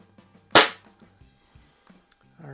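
A single sharp crack from a Crosman 1701P air pistol in a wadcutter target match, close and loud, followed by faint mechanical clicks and handling noises in a quiet room.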